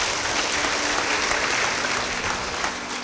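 Church congregation clapping during a sermon, a full, steady burst of applause that holds across the moment and thins slightly toward the end.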